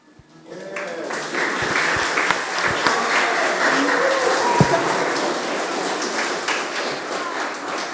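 Audience applause for students at a special education week opening ceremony, clapping rising quickly and holding steady and dense for several seconds with a few louder thumps and some voices underneath.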